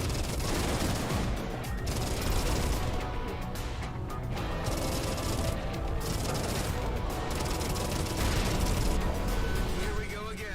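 Turrets in the Everspace 2 space game fire continuously in a dense, loud barrage of rapid overlapping blasts that persists throughout, with intermittent talk over the din.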